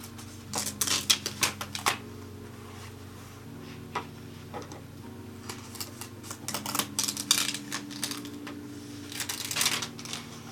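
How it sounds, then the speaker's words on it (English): A book's pages are flipped one at a time, giving irregular papery flicks and soft taps spread through the stretch, close and fairly quiet with no talk. "you have to flip through the book page by page"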